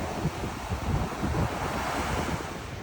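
Ocean surf at Orange Beach rolls in as a constant loud wash of crashing waves, heavily mixed with wind buffeting the microphone, with no talk over it.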